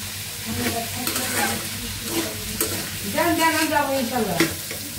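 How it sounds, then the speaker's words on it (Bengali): Pieces of pangas fish fry in hot oil in a pan, a close steady sizzle with scraping stirs and a brief crackling surge near the end. "তো পাঙাশ মাছ ভুনা করবো, ওই জন্য ভেজে নিচ্ছি।"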